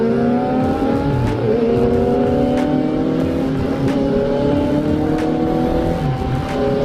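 Big bike motorcycles, including a Yamaha R6, ride past in a group with loud, continuous engine roar and rising and falling revs as several machines go by close up.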